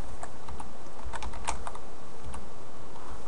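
Typing on a computer keyboard while writing C# code, a quick run of clicky keystrokes with a dense burst in the middle, close and clear with no talk.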